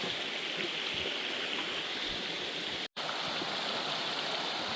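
Steady broadband rush of flowing water from a creek running nearby on a hiking trail, continuous and even with no voices.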